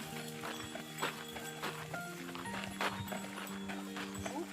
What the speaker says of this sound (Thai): พาวัวเข้าคอก หรือวัวพาเราไปคอก